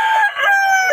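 A rooster crowing loudly and close by at a cockfighting derby in Bocaue, one sustained harmonic call that fills the whole moment.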